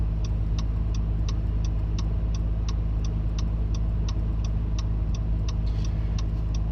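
A 2018 Acura NSX engine idles with a steady low hum, overlaid by a rapid, even ticking that repeats several times a second throughout.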